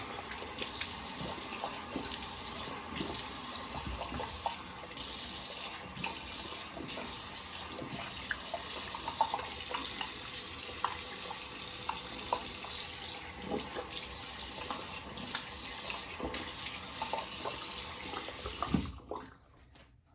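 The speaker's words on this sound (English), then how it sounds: "Get that rinsed off. Rinse my face off, and we'll probably call it a shave." Water from a tap runs steadily for a rinse after a shave with a Stirling hyper aggressive razor, with intermittent splashing and dripping close by before it cuts off near the end.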